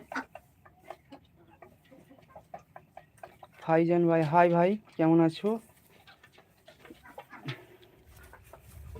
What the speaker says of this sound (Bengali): এখানে যেহেতু মুরগিগুলো আছে